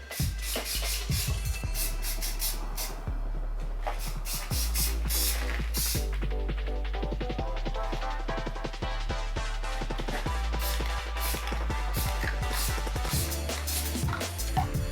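A Rust-Oleum spray paint can hisses out deep blue paint in a series of short and longer bursts for space-themed spray art, close and steady with brief pauses between sprays.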